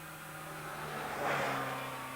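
A 1997 Mercedes-Benz A-Class car on a test track, pushed through a tight 13.5-meter cornering manoeuvre: steady engine drone that swells briefly midway, with a rising rev, heard at moderate distance with no talk.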